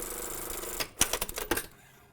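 A sewing machine stitches down fabric for a pair of pants in a few short, quick mechanical bursts, close and fairly quiet, ending in near silence.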